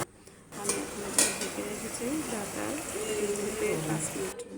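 Fish curry with cucumber being stirred in a pan, a steady scraping and gentle sizzle running throughout with faint clinks, while a person talks over it.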